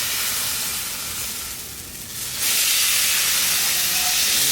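Steak sears in a hot pan while tongs press it into the pan's corner, producing a continuous close sizzling hiss that dips briefly and then swells louder.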